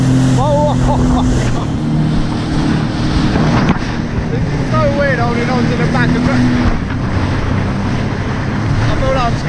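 Fast motorboat speeding across the water near Dubai, a constant loud roar of engine and wind buffeting the microphone, with spray and excited voices shouting over it.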